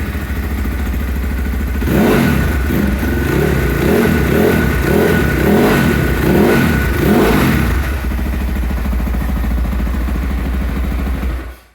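An SSR 300 motorcycle engine idles loud and close, then revs in a run of repeated throttle blips with a clattery, thumping tone before dropping back to a steady idle and cutting off at the end.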